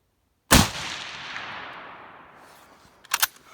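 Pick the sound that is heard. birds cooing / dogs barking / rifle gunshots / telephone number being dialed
rifle gunshots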